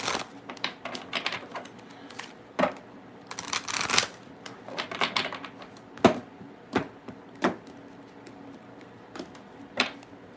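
Tarot cards being shuffled during a live reading, a series of crisp riffling bursts and taps at irregular intervals, close and fairly quiet, with no talking.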